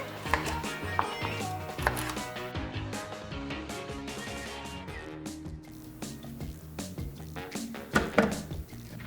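A knife chops carrots into chunks with steady, close knocks on a board, played under continuous background music with a few sharper hits near the end.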